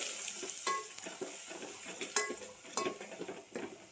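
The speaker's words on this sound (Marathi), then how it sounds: "आलं लसूण आणि जिऱ्याचं हे वाटण केलेलं आहे हे टाकायचं हे त्याला चांगली छानसं परतून द्यायचं" A ginger, garlic and cumin paste sautés in a pan with a soft continuous sizzle, while a spoon stirs and taps against the metal in irregular clicks and scrapes, near and quiet, with no voices.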